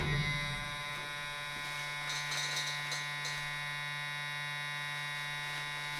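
A tattoo pen machine runs at 12 volts, giving off a steady, even electric buzz with a constant hum that continues unchanged throughout.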